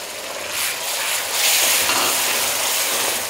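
Onion paste dropped into hot oil and fried while being stirred, making a loud, close, broadband hiss that swells and stays steady.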